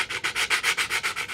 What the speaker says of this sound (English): take your nail file and just file away a little bit where the